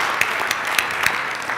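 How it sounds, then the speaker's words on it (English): Audience at a fitness technology panel during the 2014 International CES claps briefly in a thin, moderate patter of scattered hands. "Give them a round of applause."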